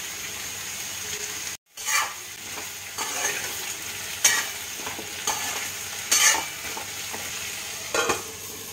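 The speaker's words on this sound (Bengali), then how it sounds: "আলু আর পেঁয়াজটা আমি একসাথে ভেজে নেব।" Chopped potato and onion fry together in a pan, giving a steady sizzle with repeated stirring scrapes and one brief dropout. No one speaks.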